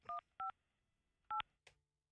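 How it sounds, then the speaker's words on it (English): Telephone keypad dialing tones: short two-tone beeps, two close together, then a pause and two more, with a faint click near the end and no talking. "Let me get Susie Lopez on the phone."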